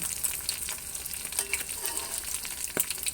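Omelette with red ant eggs frying in hot oil, a steady close sizzle with crackling pops and faint stirring or pan sounds, no voices.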